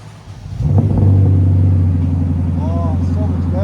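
Lexus IS 500 with a 5.0L V8 and aftermarket axle-back exhaust roars up from a low idle into a loud, deep, sustained rev that holds steady and close, with a brief outburst from people nearby.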